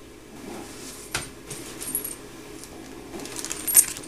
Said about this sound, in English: and some keys.